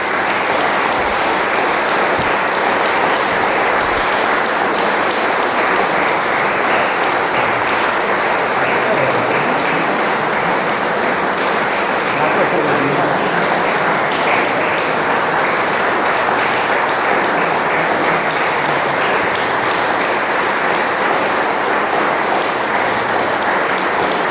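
A concert audience applauds young performers at a summer classical music series, the clapping loud, dense and sustained at an even level throughout without a break.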